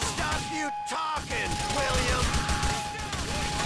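Gunfire in GTA: The Lost and Damned, a dense fusillade of rapid game shots that stays loud and continuous, with excited talk from a player over the top.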